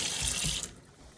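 Water gushing from a kitchen tap into a sink in a Lapland cabin, a loud broadband hiss for about half a second before it is shut off and fades to quiet.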